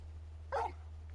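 Torgal, the large dog companion in Final Fantasy XVI, gives a single short bark, fairly faint over a steady low background hum.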